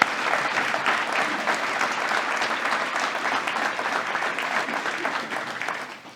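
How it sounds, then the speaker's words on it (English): A hall of fame induction audience applauds in a steady, dense round of clapping that swells and then tapers off at the end, with faint crowd murmur underneath. "Let's give them a round of applause."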